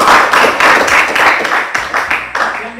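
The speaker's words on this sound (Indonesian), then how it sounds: "tepuk tangan" Students in a classroom applauding, loud close rhythmic clapping in several quick bursts that slow and break up toward the end.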